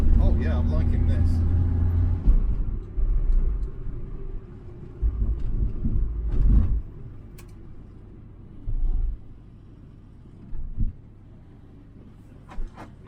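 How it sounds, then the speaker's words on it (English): A Triumph Mayflower engine rumbles low and close from inside the moving car, dropping and rising through a gear change with several surges and lulls, while someone speaks over it now and then. "Nice snick little gear change going on there. Pleasantly rorty."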